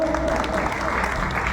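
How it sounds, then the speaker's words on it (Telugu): A general body meeting audience in a hall at Vijayawada claps together, dense continuous applause that stays steady and loud throughout. "గట్టిగా చప్పట్లు."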